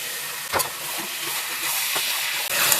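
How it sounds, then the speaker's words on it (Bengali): Fried pointed gourd and potato pieces tipped into hot oil and spiced masala in a pan, raising a loud, steady steamy hiss with a few sharp clatters of vegetables and spoon near the start and around two seconds. "এবার আমি ভেজে রাখা পটল আর আলুটা এর মধ্যে দিয়ে দেবো"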